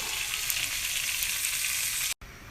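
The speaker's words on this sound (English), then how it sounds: "I'm adding my lamb chops to the skillet." Lamb chops sear in a skillet with a loud, continuous hissing sizzle close by. It cuts out briefly near the end and then resumes, with no talking.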